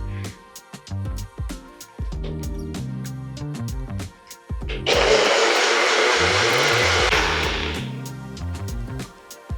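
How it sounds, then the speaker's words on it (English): A blender whirring up a turmeric ginger latte, heard as a loud steady motor roar through the middle, with music playing throughout, some clatter before it and the motor tailing off at the end. "now let's blend this up and then I will heat it in the frother"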